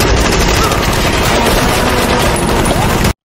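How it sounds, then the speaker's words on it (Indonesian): Sustained, loud burst of gunfire in a film shootout between robbers and police, dense overlapping shots forming a continuous roar that cuts off abruptly, with no talk. "terjadi baku tembak menegangkan antara perampok dan pasukan polisi"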